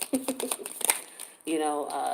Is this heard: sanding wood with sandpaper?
no